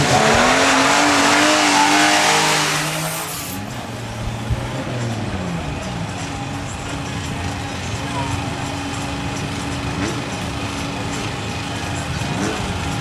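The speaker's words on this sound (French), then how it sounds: "vous allez entendre le son mélodieux de son 6 cylindres. Cher à BMW" A BMW six-cylinder engine in a Group 2 historic race car at a hillclimb, loud and close for the first three seconds, then dropping to a fainter, distant engine drone with harmonic lines that persists to the end.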